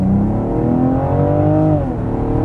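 The B58 inline-six engine of a BMW M440i revs up loudly and close, its smooth rising pitch climbing and then easing back down, with no talk over it.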